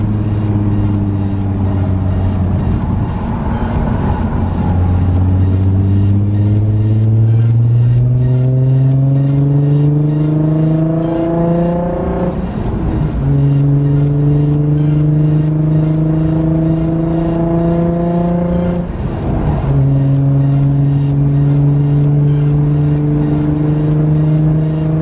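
A Nissan 350Z convertible accelerates hard on the highway, its engine note rising steadily through the gears with two clear shift dips, loud and close with constant wind rush.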